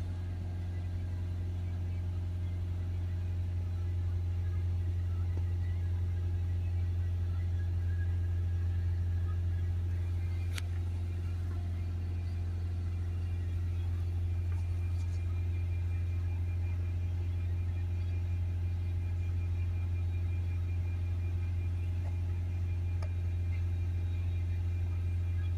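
A diesel car's engine held steadily at about 3000 rpm during DPF regeneration, a constant loud droning hum that stays level and unbroken throughout, with no talking.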